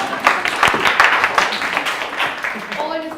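An audience at a club night training session claps in a burst of close, dense applause, with a voice talking over it.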